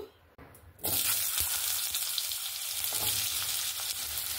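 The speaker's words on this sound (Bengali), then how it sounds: "ওই কড়াইতে আর একটু সামান্য পরিমাণ একটু তেল দিয়ে আলুগুলোকে ভেজে নেব" Potatoes drop into hot oil in a wok and begin frying, a sudden burst into loud, steady sizzling with occasional stirring clicks after a quiet start.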